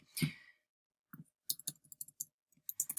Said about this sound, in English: Let me type something in here.